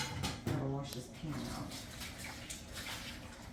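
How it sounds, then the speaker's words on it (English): Running water splashes over a pan being washed in a home kitchen sink, with scraping and clinking at the start and steady flow after; voices talk over the water. "Gotta wash this pan"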